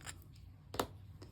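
Scissors cut through a sticker in a few quiet snips, with one sharper cut near the end, heard close up in an otherwise quiet room.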